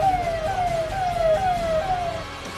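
Ambulance carrying a newborn stuck in a traffic jam on a Delhi road during the farmers' protest, its wailing siren sweeping repeatedly in falling cycles over a low rumble of traffic, moderately close and steady.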